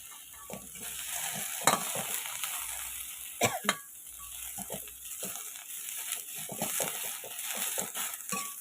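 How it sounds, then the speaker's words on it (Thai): Vegetables and chili are stir-fried in a pan for a Lao jaew dip, with a constant sizzle of frying under repeated scraping and clattering stirs. It sounds close and moderately loud. "เอาลงขัวใส่กับพริกเลยเนาะ"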